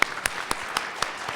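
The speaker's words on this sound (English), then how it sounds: "It's called a golf clap." An audience giving a golf clap: a handful of soft, sparse claps spaced evenly about a quarter second apart, fairly faint, with no talking.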